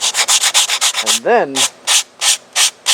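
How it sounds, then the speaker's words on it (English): Rhythmic, close hand sanding on model airliner parts for a radio-controlled Emirates 777-9X build, a rapid run of even rasping strokes that pauses for a brief murmured phrase, then returns as slower, spaced strokes. "when you want to just do some fine sanding, that's when you bring in"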